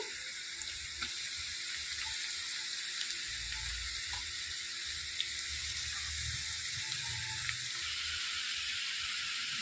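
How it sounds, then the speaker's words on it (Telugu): Grated carrot frying in a pan with asafoetida, a steady broad sizzle that holds through the whole stretch with a few faint clicks of stirring and no voices. "కొద్దిగా ఇంగువ ఇందులో తురిమి పెట్టుకున్న క్యారెట్ వేసుకోవాలి"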